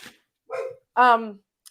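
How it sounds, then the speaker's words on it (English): A dog at home gives a couple of short, vocal barks or yips close by, the second louder and more drawn out, with brief pauses between them. "That's my dog talking."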